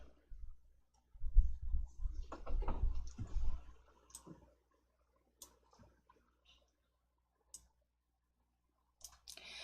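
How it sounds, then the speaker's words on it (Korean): A computer mouse clicks while working in an Excel spreadsheet: a few sharp, isolated clicks spaced seconds apart, close and crisp, after a brief stretch of low handling noise. "아래쪽 확인을 클릭."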